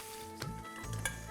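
Whole red chillies sizzling in hot ghee, a soft, continuous crackle under a few light clinks of a spoon against the pan.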